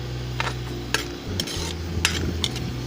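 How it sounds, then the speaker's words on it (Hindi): Chopped onions frying in hot oil for a black chana masala, a soft steady sizzle under intermittent clinks and scrapes of a spoon stirring in the pan, close and fairly quiet, no talk. "ऑयल मैंने गरम करने के लिए रख दिया है, गरम हो गया है। अब इसमें प्याज शामिल कर रही हूँ।"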